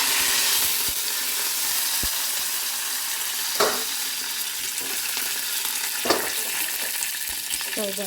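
Curry leaves and garlic crackle in hot oil for a tempering, a close steady sizzle with a few sharp spits and pops scattered through, unaccompanied by speech.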